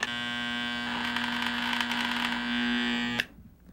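An electromagnet oscillating motor from an electric shaver running on 60 cycle alternating current, a steady buzzing hum that cuts off abruptly near the end.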